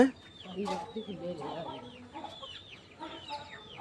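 Several chickens cluck and chirp close by in a continuous busy chatter, with occasional faint voices in the background.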